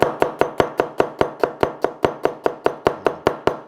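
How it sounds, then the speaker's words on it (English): A knife chops onion lengthwise along the grain on a board, about fifteen crisp, evenly spaced strikes in a quick steady rhythm, close and clear with no talk. "So we get a nice long bit of onion. All right, so cut along the grain"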